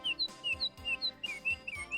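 A staged theatre sound effect of birds chirping, bright repeated whistled tweets in a quick regular rhythm, clear and close with no talk over them.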